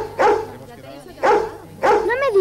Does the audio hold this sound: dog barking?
yes